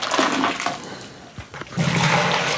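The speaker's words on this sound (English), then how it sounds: "I'll put me some scoops of water in there." Scoops of water splash and pour into a mash tun holding corn, two gushing bursts close by with a brief pause and a light knock between them.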